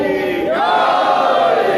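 A crowd at a religious majlis in an imambargah chants a slogan in unison, a loud sustained collective shout of many voices that rises and holds steady throughout.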